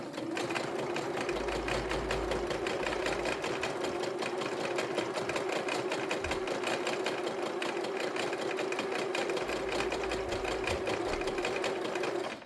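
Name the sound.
sewing machine stitching a tote bag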